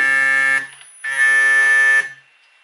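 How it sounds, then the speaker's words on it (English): Electric skateboard motors emit two steady, buzzing electronic tones during VESC Tool setup, each lasting about a second, loud and close, separated by a short gap. "And now you get the sounds coming out of your board because the motors will"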